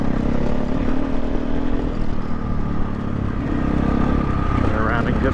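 A KTM off-road motorcycle drones steadily while being ridden, its engine note loud and continuous, with wind rush and a voice partly mixed in.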